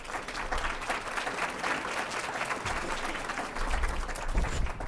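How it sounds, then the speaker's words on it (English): Steady applause from a crowd, dense clapping sustained throughout with a slight swell near the end. "another round of applause for the Summit Planning Committee, Jacob and Craig"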